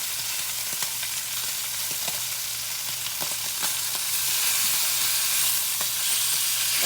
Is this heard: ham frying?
yes